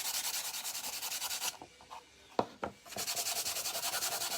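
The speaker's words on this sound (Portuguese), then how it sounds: "Essa lixa aqui que eu tô usando, meninas, é a lixa 300, própria pra MDF." Close, rhythmic scrubbing of 300-grit sandpaper on a painted MDF piece, with quick regular back-and-forth strokes that pause briefly around a couple of sharp taps and then resume.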